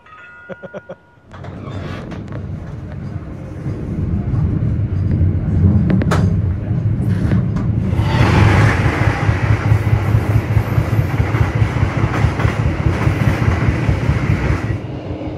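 A Sritanjung economy train pulls away again, heard from inside a carriage: after a quiet start, a rising rumble builds into steady, close rail noise with a regular clickety-clack rhythm as it gathers speed.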